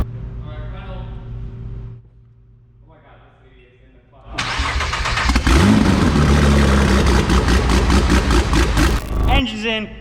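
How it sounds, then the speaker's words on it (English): A car engine with a newly upgraded big turbo cranks and fires up after a quiet stretch, then settles into a loud, steady run close by with voices talking over it. "Engine's in, car just started."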